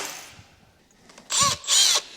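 A 25mm hole saw drilling a hole, two loud whining bursts about a second apart, each starting abruptly after a quieter lead-in.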